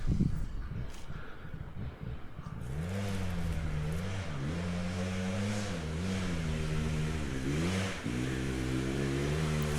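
Husqvarna TE off-road dirt bike on a hard-scramble enduro trail, its engine climbing in repeated revs and dips as it works up a slope, fairly near and steady for most of the stretch, with no voices.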